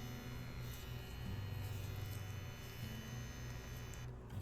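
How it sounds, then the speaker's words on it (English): CNC 77 Pro tattoo machine running, a steady, even electric motor hum with a faint high whine, close and continuous with no talk, cutting off briefly near the end. "Other than that, here is the sound of the machine."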